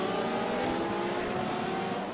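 Race cars in a sim racing game at Spa, drag racing up the start-finish straight, their engines droning loud and steady with layered high-revving tones throughout, no voices.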